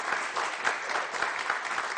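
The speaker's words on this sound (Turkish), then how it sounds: "O zaman kendinizi kocaman bir alkışlayın lütfen." An audience at a stress-management talk gives sustained applause, a dense, even wash of many hands clapping at once with no speech over it.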